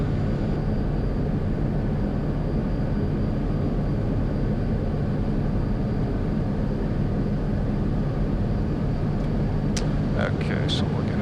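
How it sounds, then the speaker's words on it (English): A Cessna airplane taking off on a warm day, a loud steady engine drone and broadband rumble throughout, close and continuous, with a few faint clicks near the end. "Just a little faster takeoff on a Cessna"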